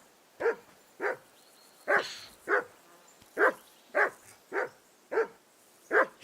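Repeated close barking from a dog in the video game Kingdom Come: Deliverance II, about ten evenly spaced loud barks with no voices over them.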